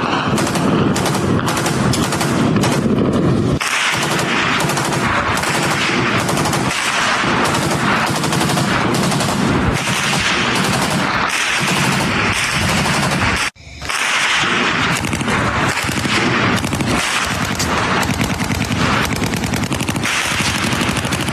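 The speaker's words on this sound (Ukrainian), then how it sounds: "Стрілянина з будівель та вибух за вибухом." Continuous loud automatic gunfire from buildings in urban combat, dense bursts of shots layered with explosions, with one brief drop near the middle before the barrage resumes.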